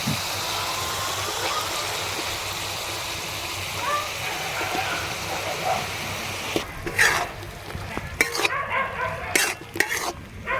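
Pre-fried potato and papaya are stir-fried in spiced oil for a Bengali rui fish sour curry: a loud, close sizzle at first, then about four seconds of brisk scraping and clattering spatula strokes against the pan.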